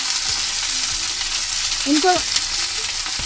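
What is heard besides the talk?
sautéing coriander and mint leaves in a pan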